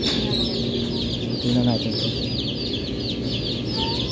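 Chickens cluck and squawk steadily on a poultry farm during beak trimming and IBD vaccination, with a loud continuous flock murmur and a person speaking briefly over it.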